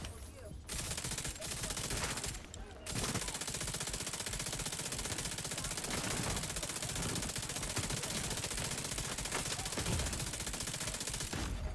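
Sustained turret fire in the shooter game The Division 2, loud and nearly continuous rapid bursts after two short gaps near the start.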